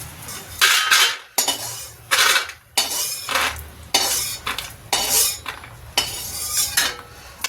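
Fried peanuts scooped out of a pan with a metal spoon, giving loud, close scrapes and clinks in quick bursts separated by brief pauses, with no speech.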